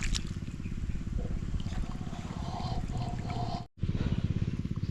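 A water pump engine running close by with a steady throbbing low drone that cuts out briefly and then resumes just as strongly.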